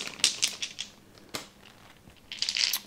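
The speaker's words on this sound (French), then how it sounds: "Alors, on a ces gros dés ici." Large board game dice with printed symbols handled and knocked together, giving a few sharp clicking rattles near the start and a denser clatter near the end, quiet and close with no talk.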